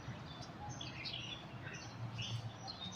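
Small birds chirp in the morning near flowering bougainvillea, a steady scatter of high tweets over a soft ambient background, moderately distant and fairly faint, with no talking.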